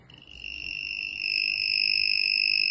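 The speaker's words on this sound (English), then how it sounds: "You can hear the buzzing sound." A current detector device working by electromagnetic induction gives off a steady, high-pitched electronic buzz, two sustained tones that hold unbroken and grow slightly louder, close and alone with no talking.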